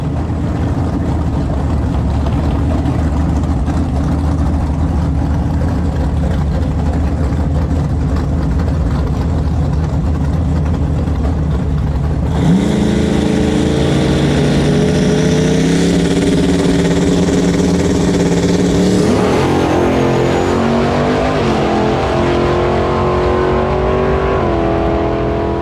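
A Mustang Fox body drag car with a 632 big block and nitrous, four-link rear end and caged stock chassis, revs loudly and continuously at a test-and-tune event, its engine pitch climbing and shifting through distinct surges.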